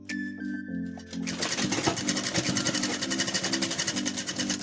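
A sewing machine runs a straight seam along the waistband of an umbrella frock, a steady fast whirring stitch rhythm after a brief start, loud and close with no talk.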